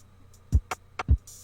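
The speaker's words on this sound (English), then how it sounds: "There's this simple drum loop that's holding it all together" A short, sparse drum loop: two deep kick thumps alternating with snappy snare hits, then a hi-hat tick, clear and dry.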